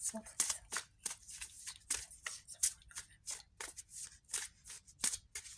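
Tarot cards being shuffled by hand, a run of quick papery riffles and flicks in close, busy bursts, with a voice murmuring faintly in the background.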